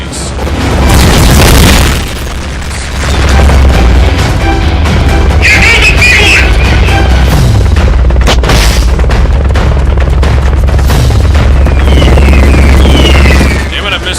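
Explosions and booming blasts while fighting the AH56A Bomber in a video game, heavy and continuous, with a low rumble running throughout and repeated bursts layered over it.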